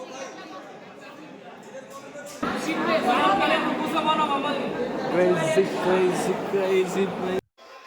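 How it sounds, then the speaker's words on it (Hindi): Dense crowd chatter, many overlapping voices filling a busy indoor space, growing louder partway through before cutting off abruptly. "सारी पब्लिक को एक साथ अंदर छोड़ दिया था, इसलिए इतनी भीड़ जमा हो गई।"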